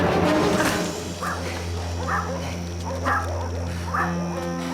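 Cartoon dogs bark in pursuit, a series of short yaps and bow-wows spaced about a second apart over a steady humming music or ambience bed.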